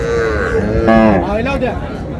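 A cow at a rural cattle market gives one long, close, wavering moo, rising and falling over a couple of seconds above a busy background hum of the crowd.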